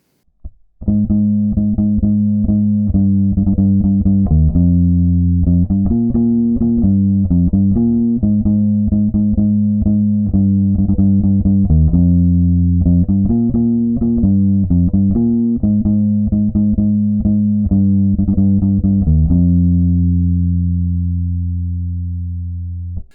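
A bass guitar plays the chorus line of a song, sustained, distorted low notes in a steady rhythm, ending on a long ringing note that fades out.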